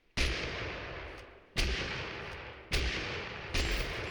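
Four loud, booming Mossberg shotgun blasts fired from the hip in a video game, spaced about a second apart, each with a sharp attack and a long decaying rumble and no talk over them.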